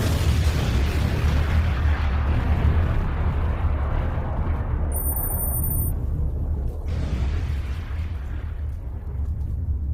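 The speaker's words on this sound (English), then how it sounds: "He gets an explosion for this." A loud, sustained blast sound effect rolls through as an explosion reward in a quiz game, a dense rumbling roar lasting the whole stretch with a brief high electronic tone partway through.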